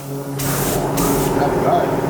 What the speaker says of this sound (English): Grab your spray gun.